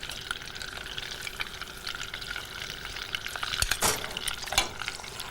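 Butter and margarine melt in a pan with demerara sugar, giving a soft, continuous sizzle with faint stirring scrapes and a brief louder clatter toward the end.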